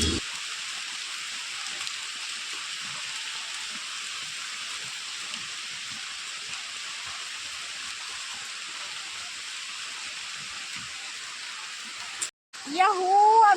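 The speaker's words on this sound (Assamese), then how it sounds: "এতিয়া যিহে বৰষুণ দি আছে" Steady rain pours down during the rainy season at Khamrenga wetland, a constant even hiss throughout that cuts off abruptly near the end as a voice begins to speak.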